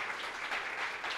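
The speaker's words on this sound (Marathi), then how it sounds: "एकदा जोरदार टाळ्या आपण त्यांच्यासाठी वाजवू." An audience at an award ceremony claps in a brief, soft burst of applause heard from a distance.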